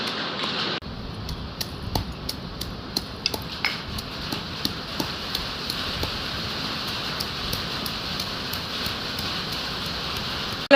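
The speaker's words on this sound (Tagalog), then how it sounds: "It's raining already." Steady rain hisses down outside while spices are pounded indoors, with scattered light ticks and clinks over the even wash of falling water.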